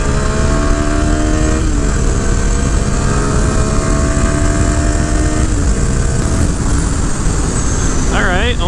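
A CFMOTO motorcycle accelerates hard down a straight. The engine note climbs steadily through the gears, loud and close, under heavy wind rush, and a voice is heard faintly over it.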